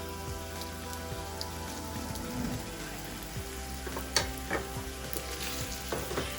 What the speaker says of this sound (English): stir up our meat, because I hear it sizzling over here